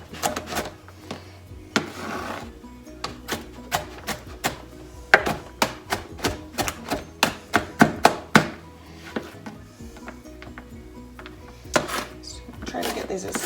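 A large knife chopping white onions on a board, with quick runs of sharp rhythmic thunks broken by pauses and heard up close, and a voice speaking at times.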